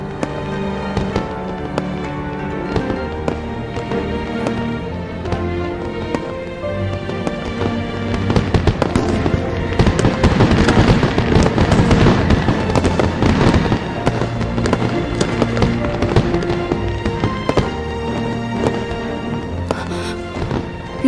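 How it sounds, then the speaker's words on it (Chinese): Fireworks crackle and burst in a dense rush that swells through the middle and then thins out, sounding beneath sustained melodic music. "也喜欢这烟花。"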